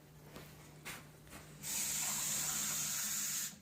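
Water from a kitchen sink tap runs into a container, a steady close hiss and splash lasting about two seconds after some faint handling knocks, then cutting off.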